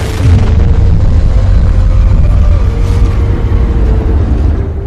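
A massive, roaring explosion of an asteroid striking the shallow sea of the Gulf of Mexico, with deep rumbling booms that sustain loudly throughout, like a huge blast rolling on without pause.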